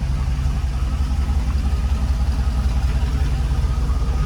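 A deep, steady exhaust rumble from a truck engine with a new muffler, continuous and close, with a low throbbing pulse that holds even throughout.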